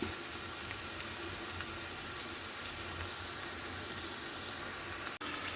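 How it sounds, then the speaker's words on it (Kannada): Onions fry with ginger garlic paste in a pan for chicken dum biryani, giving a dense, steady sizzling hiss that holds evenly throughout before a brief cut near the end. "ಈರುಳ್ಳಿ ಫ್ರೈ ಮಾಡಿಕೊಂಡು ಇವಾಗ ಇದರಲ್ಲಿ ಶುಂಠಿ ಬೆಳ್ಳುಳ್ಳಿ ಪೇಸ್ಟ್ ಹಾಕಿದ್ದೀನಿ"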